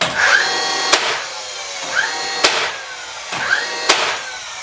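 A DeWalt DCN680 cordless nailer fires three sharp, evenly spaced shots, each with a brief motor whir, heard close and alone in a quiet room.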